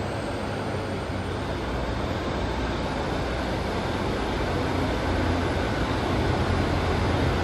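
A Northern class 156 diesel train pulls away from a station platform on the Durham coast, bound for Newcastle, as a steady broadband rumble and roar that stays constant and moderately distant throughout, with no voices.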